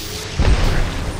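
A frag grenade explodes in Apex Legends with a single short, deep boom, close and fairly loud, over steady game background noise.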